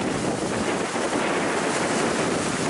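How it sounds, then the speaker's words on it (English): Steady broadband rush of wind and water surrounds a sailboat near a sandbank as another boat moves out, the wash and breeze constant and fairly loud with no clear separate engine. "There's a boat coming out, I think,"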